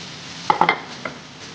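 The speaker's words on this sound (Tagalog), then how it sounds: "Haluin natin para mag-absorb ang black pepper sa ating mm." Sautéed broccoli seasoned with black pepper and salt is stirred in a pan, giving a few quick scraping clinks of utensil against metal over a faint steady sizzle.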